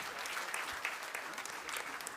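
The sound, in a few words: audience applause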